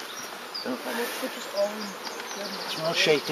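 Package honeybees being hived in Donegal buzz close and continuously, a busy insect drone under brief talk from people nearby.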